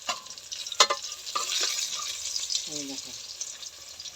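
Pabda fish fry in hot oil, giving a quiet, hissing sizzle with a few stirring clicks while a person speaks briefly over it.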